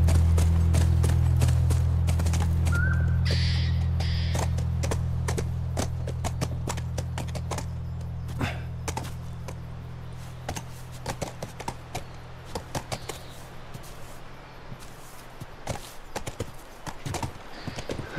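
Horse hooves in The Last of Us clip-clop in a steady walking rhythm, with a low engine-like hum fading out early on; no talking.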